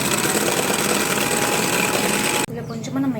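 An electric beater whirs steadily as an egg is beaten in a bowl, a loud continuous motor buzz that cuts off abruptly near the end, followed by a brief softer rattle.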